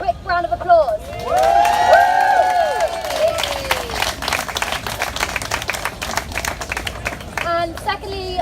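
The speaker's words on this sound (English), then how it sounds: "So can we just give them a quick round of applause?" A crowd breaks into applause and scattered cheers after a brief spoken line, clapping holding steady and dense for several seconds before tapering off.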